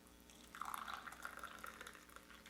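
Vietnamese specialty Arabica coffee from the highlands pours into a cup in a thin, trickling stream that starts after a short pause and runs steadily, close and fairly quiet.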